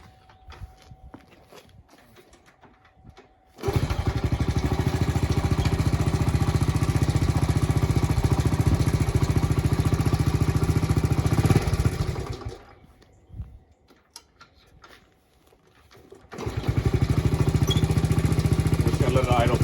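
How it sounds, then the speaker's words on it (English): A 1972 Honda CT70H small single-cylinder engine idles steadily after a cold start, a loud, close, even running drone that dips out for a few seconds midway before resuming. "cold start video on this 1972 CT70H."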